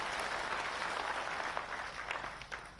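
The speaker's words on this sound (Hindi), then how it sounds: "आप ही तालियां बजा के उनका स्वागत कीजिए, अभिनंदन कीजिए।" A crowd at a political rally for farmers in Madhya Pradesh breaks into sustained applause, a dense, even wash of many hands clapping at once that holds steady, then thins slightly toward the end.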